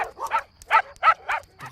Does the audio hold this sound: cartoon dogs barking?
yes